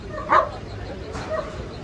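A single dog bark sounds at a crowded dog show with around 450 dogs, a short yip rising clearly over a steady murmur of hall noise, followed by a fainter second call a moment later.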